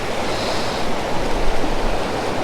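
A creek waterfall, where trout are being fished, pours in a steady broadband rush, loud and close, with no voices.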